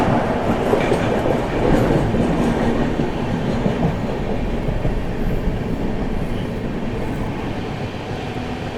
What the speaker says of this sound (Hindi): गाड़ी ने क्या रफ्तार बनाई है भाई कोडरमा से निकलते ही